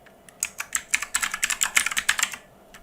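A name being typed on a computer keyboard: a quick, close burst of about twenty crisp key clicks in an uneven rhythm, alone with no speech.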